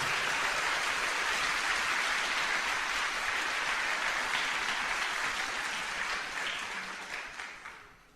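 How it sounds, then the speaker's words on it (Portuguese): A church congregation applauds in a dense, sustained wash of clapping that holds steady for several seconds and then tapers off at the end. "Dê uma salva de palmas para Jesus como Ele merece."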